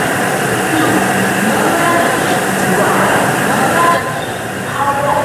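The Gatiman Express runs steadily after departing Agra, a loud continuous rumble and rushing roar heard from inside the coach, with faint clicks over the rails and a slight change in tone near the end.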